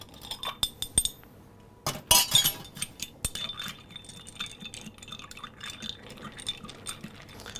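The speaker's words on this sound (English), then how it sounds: "Few ice cubes." Ice cubes clink and rattle into a glass while a pomegranate and clove rum cocktail is made at a bar, with a dense burst of bright clattering in the middle and scattered lighter clinks and taps before and after.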